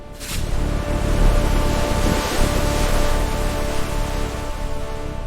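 Surging ocean waves roll steadily in a broad, loud wash, with a sharp burst at the start and a continuous roaring surf underneath throughout; no one speaks.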